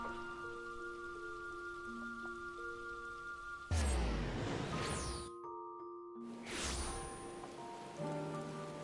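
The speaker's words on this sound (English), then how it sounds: "Ooh, it's raining here." Rain falls in Final Fantasy XIV as a continuous hiss of drops on surfaces. It holds steady under the game's music and ambience, with a couple of louder whooshing swells and a brief dropout in the middle.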